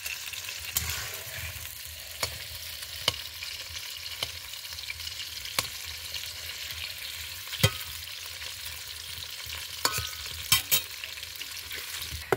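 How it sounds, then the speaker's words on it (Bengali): Potatoes frying in hot oil, a steady sizzle throughout with sharp scrapes and clacks as a utensil stirs them at irregular intervals, close by with no talking. "আলু ভাজা হয়ে গেছে"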